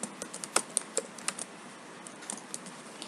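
Quick bursts of keystrokes on a computer keyboard while entering a text value into an Excel formula, a short irregular run of crisp close clicks with brief pauses, no talking.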